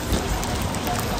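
Steady rain falling outdoors, a dense continuous hiss and patter of drops filling the whole moment with no voices.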